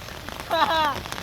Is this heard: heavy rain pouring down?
yes